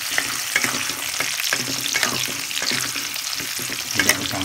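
Onions fry in hot oil in a pan for sambal goreng, a constant close sizzle with repeated stirring scrapes and taps of a utensil and no voices.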